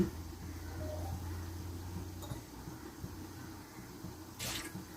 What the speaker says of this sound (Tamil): வெந்நீரை ஊற்றி இந்த மசாலாவை நல்லா கரைச்சிக்கங்க.